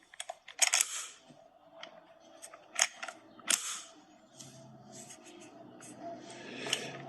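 The magazine of a TPX 50 airsoft pistol is pulled out, giving a few sharp plastic clicks and clacks amid small handling rattles and rustles, close and moderately quiet.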